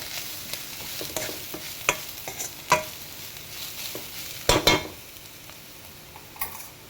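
Spice powder mixture being stirred in a pan while making bakery-style bread masala toast, with a soft continuous sizzle broken by scraping and clinking spatula strokes and a louder cluster of knocks partway through.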